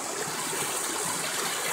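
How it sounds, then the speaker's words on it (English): Creek water in snowy Sespe, where a cold creek meets a steaming hot creek, rushes in a continuous, close hiss with no voices over it. "Right here, there's a cold creek that meets a hot creek."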